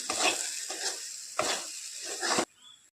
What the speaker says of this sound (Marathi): आता आपला मसाला परतून झाला आहे याच्यावर तेल यायला लागले